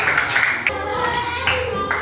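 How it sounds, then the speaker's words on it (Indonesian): Children in a classroom clap together for their group, a brisk run of close, sharp handclaps in quick rhythm over about two seconds, with faint voices in the background. "Tepuk tangan buat kelompok kita."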